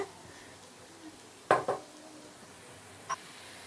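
Spoon clinking against a pan while stirring masala for a masala bread snack, a couple of sharp metallic knocks and a later single tap over a low kitchen background, with no talking.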